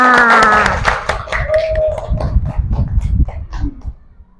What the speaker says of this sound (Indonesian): Oke, tepuk tangan dulu semua.